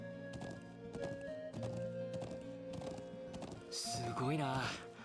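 Steady, evenly spaced hoof clip-clops over a droning musical backdrop, followed by a horse's whinny near the end, from the video game Trails of Cold Steel.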